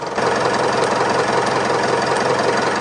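A warm Mitsubishi Triton 4D56 diesel engine idles steadily nearby, with a dense, continuous knocking rumble that holds at an even level throughout, and no talking.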